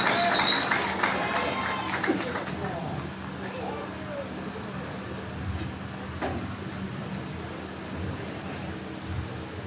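Crowd applause at a political event where regent and vice-regent candidates register, loudest at the start and then settling into a steady, diffuse clapping that continues under faint background voices.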